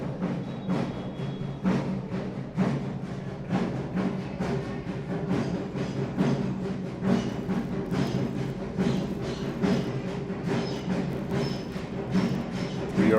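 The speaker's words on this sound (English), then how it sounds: "The noise you hear are the Broncos fans." Broncos fans cheering and making noise in the stands at a youth junior bowl football game, a steady dense crowd roar with rhythmic claps or stomps running throughout, fairly distant and continuous.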